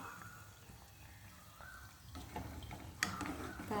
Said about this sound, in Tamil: இப்போ வந்து எண்ணெய் வந்து நல்லபடியாக கொதிக்கட்டும்